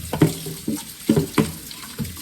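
Hot tap water runs into a kitchen sink during meal prep, splashing in about five uneven bursts over a steady trickle, close and fairly loud, with no talk.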